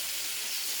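Kupa fish sizzles in hot oil, a brief, close, continuous hiss with a faint pop near the end.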